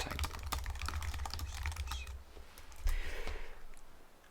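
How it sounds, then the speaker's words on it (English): Quick keystrokes on a computer keyboard while entering question text for a Moodle quiz, a close run of clicking taps that slows, with a soft breath near the end. "We then will type in the question text."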